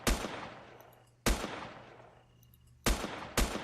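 Four loud, sharp gunshots from the survival game Next Day Survival, spaced unevenly with long echoing tails, the last two coming close together.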